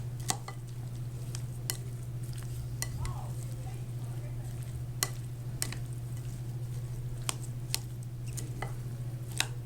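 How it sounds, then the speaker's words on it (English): Mango pico being stirred with chili-lime powder in a bowl, giving soft, irregular scraping and clinking taps at close range over a steady low electrical hum, with no talk. "Make sure you mix in everything very well."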